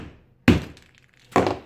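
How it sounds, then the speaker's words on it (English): Two heavy hammer blows on a hard plastic clothing security alarm tag, each a sharp, loud thunk with a cracking edge, spaced about a second apart with quiet between. "So I'm gonna give it one last bang."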